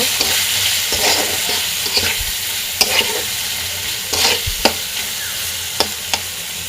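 Spices with salt and turmeric get stirred in a hot pan, a gentle sizzle broken by sharp utensil taps and scrapes at an irregular pace, close and clear.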